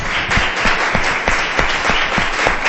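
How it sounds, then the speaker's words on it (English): Close, lively applause from an audience thanking a guest speaker at a print media conference, with distinct individual claps standing out from the steady wash. "join me in a round of applause to our guest"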